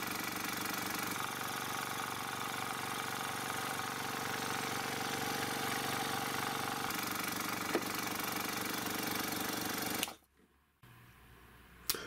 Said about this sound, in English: This type of motor is an induction motor, which comes with a capacitor, and it has two windings